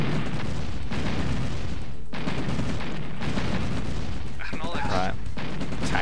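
Gunfire and explosions from a Red Alert real-time strategy battle, with repeated booming blasts and rattling shots layered continuously, while a voice talks over the action.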